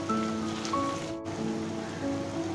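Beef kala bhuna, a Chittagong-style dark spiced beef dish, fries uncovered over gentle heat in a pan, giving a steady, even crackle and sizzle with scattered spitting pops, close and alone throughout.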